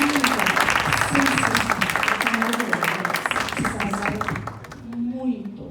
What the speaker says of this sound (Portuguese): pedir que todos nós aqui aplaudamos a performance das suas meninas